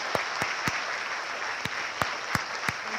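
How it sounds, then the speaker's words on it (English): Light applause from an audience after a talk, a thin scattering of claps with a few sharper, louder claps standing out at irregular moments. "let's give one more great round of applause for Eliza Reid"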